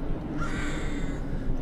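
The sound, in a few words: crows cawing in a video game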